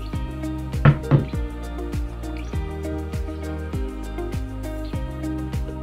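Homemade aloe vera oil drips through a sieve in a series of small, regular liquid drops, fairly close and steady, with a couple of louder splashes near the start.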